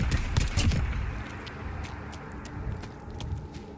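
Gunfire from a firefight in Fallout 4, several sharp shots and bursts up front, then scattered distant cracks over a rumbling background.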